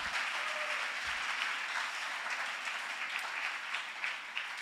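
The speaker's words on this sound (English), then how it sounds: "clap your hands a little bit tonight" A church congregation at a revival service claps their hands together, a dense sustained wash of applause heard from a distance at low level for several seconds.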